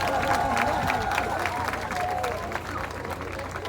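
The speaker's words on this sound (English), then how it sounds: "Give them another round of applause." A crowd at the Sagicor Life lighting ceremony in Barbados applauds primary school students, scattered claps mixed with cheering and crowd murmur, with voices talking over it.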